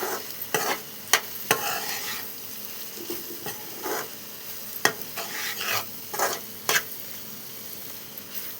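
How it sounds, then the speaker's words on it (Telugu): Coriander, coconut and lentil spice powders stirred in a hot pan, with a soft sizzle under repeated sharp scrapes and clinks of the spatula against the pan, close and irregular. "ఒకసారి కలుపుకున్నాం"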